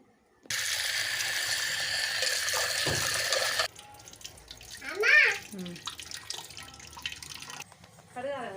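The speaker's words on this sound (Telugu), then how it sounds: "మంచిగా కడుక్కొని కొద్దిగా వాటర్ అయితే యాడ్ చేసుకోవాలి" Water runs steadily from a tap for a few seconds while moong lentils are washed, then stops, followed by light splashing and handling sounds with brief voices.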